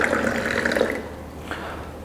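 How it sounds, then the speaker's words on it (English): A solid cylinder is lowered into water in a lab experiment, giving a short burst of sloshing, bubbling liquid that fades to a quiet trickle with a faint drip near the end. "So here we are immersing in water the solid cylinder till the first mark."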